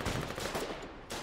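Rapid gunfire from the online shooter War 98, a dense continuous burst of shots filling the whole moment at steady loudness, with a short drop near the end before firing resumes.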